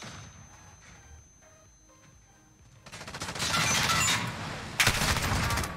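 Rapid gunfire in the shooter game Gunfight, starting quietly then swelling into loud, dense bursts of shots from about the halfway point, with a sharp spike near the end.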